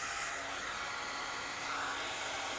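A heat gun blows steadily on heat shrink tubing over small wire connectors, a constant loud hiss of hot air with no pauses and no talking.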